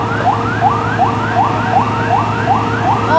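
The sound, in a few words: fire truck siren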